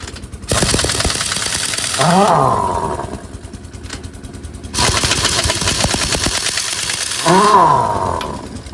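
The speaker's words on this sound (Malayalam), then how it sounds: "ഇമ്പാക്ട് എന്ന് ഉപയോഗിച്ച് വളരെ എളുപ്പത്തിൽ നമുക്ക് വെയിലിനട്ട് വർക്ക്ഷോപ്പ് വരെ ഊരി തന്നു" An impact wrench loosens truck wheel nuts in a workshop. Two long, loud, rattling bursts run several seconds each, with the motor whine rising between them.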